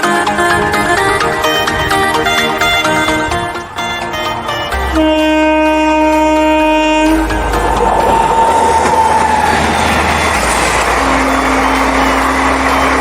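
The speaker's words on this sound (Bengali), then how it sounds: "ট্রেন না মালগাড়ি বুঝতে পারা যাচ্ছে না, ট্রেনই হবে" A train passes a new halt station at Katjuridanga in Bankura, West Bengal, its steady rumble heard throughout with music playing over the first half and a long tonal whine later on.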